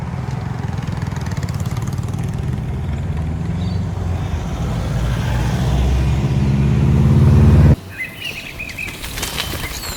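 Traffic on a main road: a vehicle's engine and tyre roar swells loudly close by, then cuts off abruptly, leaving quieter road noise.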